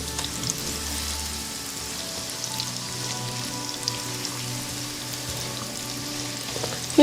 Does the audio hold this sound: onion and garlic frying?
yes